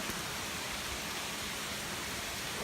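Hail falling outside during a thunderstorm, a dense, steady hiss of countless small impacts that holds at an even level throughout, with no voices over it.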